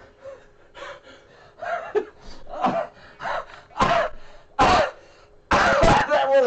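A person coughs, gasps and clears their throat in a run of close, harsh bursts that grow louder and more forceful toward the end.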